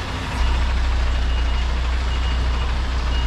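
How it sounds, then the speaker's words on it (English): A truck reverses at night while its warning alarm beeps in a fast, steady, regular pulse over a low engine rumble. "I need to try and do a little bit of a blind reverse at the same time"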